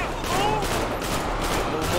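Gunfire in GTA 5, a rapid burst of shots crackling throughout two seconds at moderate loudness with a voice talking over it.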